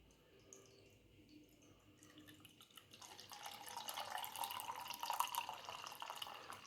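Beer pours into a glass, starting quietly with a few drips, then a steady fizzing gush that grows louder and bubbles up close by.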